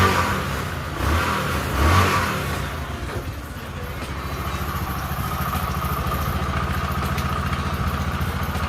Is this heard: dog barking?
no